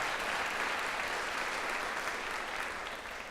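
An audience at a county jazz festival gives a full, sustained round of clapping that fills the space evenly, then begins to thin slightly toward the end.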